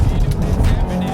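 Ferrari 355 GTS sliding without traction control, tires squealing loudly up close over a roaring high-revving engine in one short burst.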